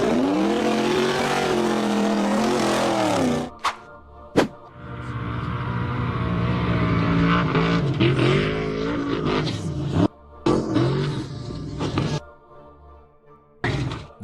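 An off-road buggy engine revs hard and loud as it climbs a steep dirt embankment at a 4x4 hill climb event. The roar rises and falls in bursts, broken by brief thumps and short gaps.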